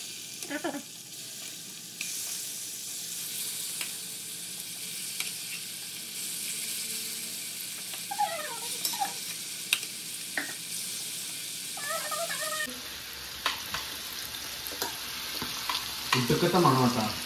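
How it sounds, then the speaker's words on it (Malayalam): Masala-rubbed chicken frying in a pan, a soft steady sizzle with occasional stirring scrapes, fairly quiet and close, growing busier toward the end. "ഈ മസാല തിരുമ്മി ചിക്കൻ ജസ്റ്റ് ഒന്ന് ഫ്രൈ ചെയ്തെടുക്കുക"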